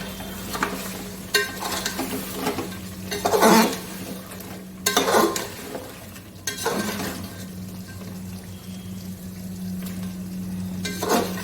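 Fried mutton pieces being stirred and turned in a pan for a Bengali mutton and potato curry, with repeated scraping strokes over a steady background sizzle, close and moderately loud, no talking.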